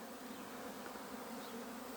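Honeybees buzz around their hives in the morning in Jangsu, Jeonbuk, a dense, continuous drone of many insects that is fairly faint and steady throughout, with no voices.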